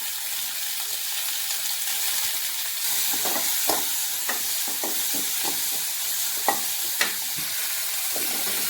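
Tomatoes sizzling in a hot pan of oil with curry leaves, dried red chili and asafoetida, a steady frying hiss with scattered stirring clicks and scrapes, no talk.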